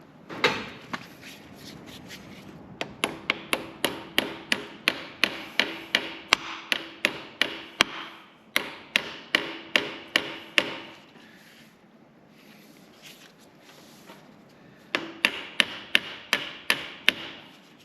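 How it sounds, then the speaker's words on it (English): A hammer gently tapping a tight-fitting part onto a shaft during a repair, sharp metallic knocks in quick rhythmic bursts separated by short pauses, close and clear with no talk. "It's a tightish fit on the shaft, so I will need to give it a bit of gentle persuasion with the hammer."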